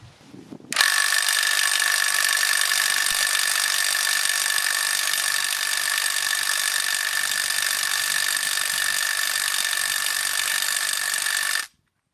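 Parkside Performance cordless impact wrench hammering against a nut it cannot loosen, one loud, continuous rapid rattling burst lasting about eleven seconds with no talk, then cutting off abruptly.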